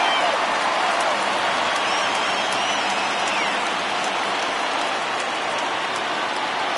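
Crowd cheering in the baseball video game MLB The Show 20, a dense, continuous roar from a stadium crowd on its feet, steady and loud throughout, with no clear speech over it.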